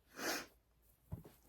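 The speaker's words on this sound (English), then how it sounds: "first time sneezing on camera." A person sneezes once, close and sharp, a loud burst of breath followed by a brief snort-like catch a moment later, with quiet room tone around it.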